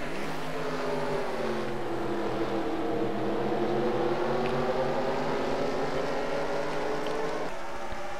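Stock cars racing at Watkins Glen in a racing video game, a continuous loud engine drone with pitch that dips and climbs as the cars run past together, no talk.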